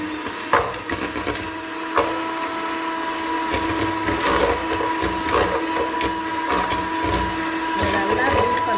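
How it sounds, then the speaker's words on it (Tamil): Melted butter (80 g) and sugar being beaten for a cake, giving a steady close whirring and rubbing churn with occasional knocks against the bowl, continuous throughout. "இப்போ இதை நான் பீட் பண்ண போகிறேன்"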